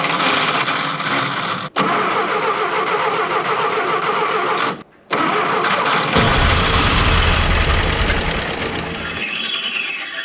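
A WW2 Ford Jeep that sat for 60 years cranks and fires up, a loud, close engine roaring and running rough with a brief cut-out before catching again and settling into a steady run.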